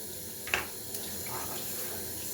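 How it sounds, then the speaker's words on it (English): Hot water runs steadily from a tap onto paint brushes being cleaned, a continuous splashing stream with a brief louder splash near the start; no one speaks. "I do have it on very, very hot water"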